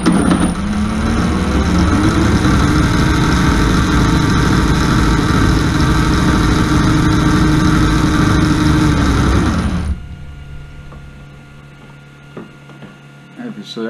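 An alternator converted into an electric motor runs under full load, drawing about 80 amps. It gives a loud, steady electrical whine and hum with engine-like harmonics for about ten seconds, then cuts off abruptly and leaves quiet room tone.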